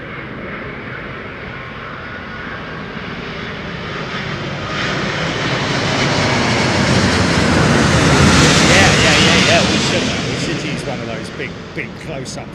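Virgin airliner landing at London Heathrow, its jet engine roar swelling loud and close, peaking near the middle and then fading, with faint talk underneath.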